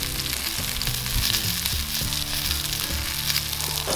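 Perch fillets crisping in a small pan give off a steady, close sizzle and crackle that runs unbroken for the whole stretch, with no voices over it.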